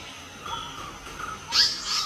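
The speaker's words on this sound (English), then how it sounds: "So this bird is called the orange-headed thrush." An orange-headed thrush calling in a forest reserve, a few short clear whistled notes at moderate distance, followed by a brighter, louder burst of song near the end over faint background hiss.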